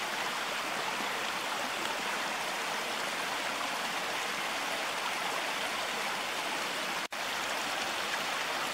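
A brook rushes steadily beside a hiking path, a close, continuous wash of flowing water with no voices, interrupted only by a brief click near the end.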